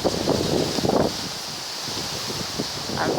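Wind blowing outdoors among silver birch trees, a steady, airy rush with gusting buffets and leafy rustle over the microphone.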